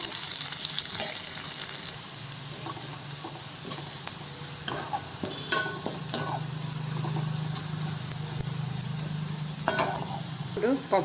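Mustard seeds splutter in hot oil for a Telugu dal, with scattered pops and crackles over a steady sizzle and occasional stirring scrapes, close and moderately loud.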